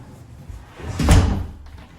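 A door at a separate entrance of a brand new house in Mahogany, Calgary swings and shuts with a single soft thud near the middle, fairly close, with light room noise around it and no talk.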